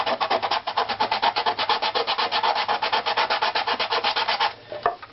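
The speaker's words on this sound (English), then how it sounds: "the stiff sanding pad, and I'm using the 150 paper here." Steady rhythmic back-and-forth rubbing of a stiff sanding pad with 150-grit paper across a spruce-like violin back plate, loud and close, with no talking; the strokes stop briefly near the end.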